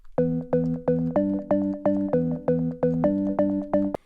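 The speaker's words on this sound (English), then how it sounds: "one of the most defining things of her style is a M1 style" M1 style house organ synth remake playing a bright, bouncy chord riff of about ten evenly spaced stabs, each with a crisp attack and a short decay, heard alone.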